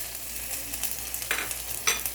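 Cumin seeds, cardamom and garlic frying in oil in a pressure cooker produce a soft, steady sizzle with two brief louder crackling bursts near the end.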